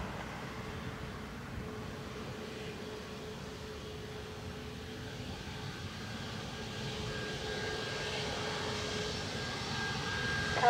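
An aircraft landing on runway 28 left at Dublin Airport, a steady distant jet roar that slowly builds in loudness over several seconds, alone with no talk.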